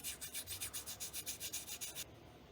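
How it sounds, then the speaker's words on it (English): A small part for a micro RC plane is sanded to a bevel with quick back-and-forth strokes, about a dozen even rasping passes, close and fairly quiet, then stopping. "we should probably sand this, sand a bevel into it like we did the elevator"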